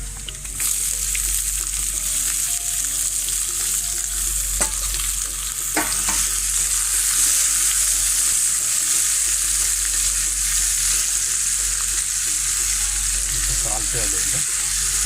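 Chopped onion sizzles steadily in a frying pan while being stirred for a tin fish (tuna) pathiri filling, a continuous close frying hiss broken by occasional scraping stirs, with no talking.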